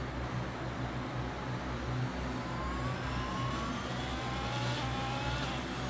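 F1 race car engine in a racing video game accelerating out of a corner at the Circuit of the Americas, a steady mid-pitched drone with rising whine tones climbing over six seconds, continuous and fairly loud with no talking.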